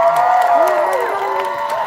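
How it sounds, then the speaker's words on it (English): A street crowd at a march for Palestine in Denver cheers and whoops steadily in response to a call for applause, a dense, sustained swell of raised voices close by. "So let's give them a round of applause."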